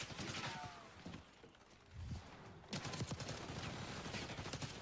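Gunfire from the video game Call of Duty Black Ops 6: rapid, dense bursts of shots, fairly faint and mixed with game ambience, briefly easing before a louder stretch of sustained firing.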